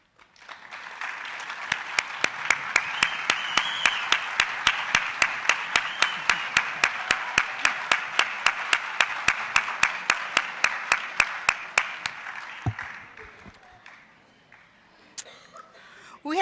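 A ceremony audience applauds families at a pharmacy school honors and awards event. Dense applause builds quickly and holds steady for about twelve seconds, with sharp rhythmic claps cutting through. It then fades into quiet, with a brief clatter at the end.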